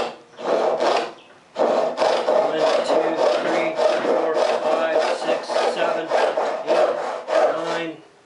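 A cheap tenon saw cuts through wood in a steady run of rasping back-and-forth strokes, close and loud, after a short opening stroke and a brief pause, with no talking.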